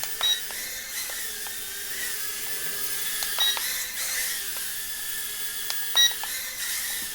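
A Holystone HS 210 toy drone flips in flight, its faint high electric whine running steadily with a few short beeps and clicks scattered through the quiet.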